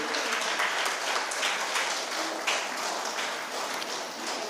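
Dense applause from a crowd at a student prize-giving ceremony, steady and continuous throughout, with many hands clapping at once and no voices standing out.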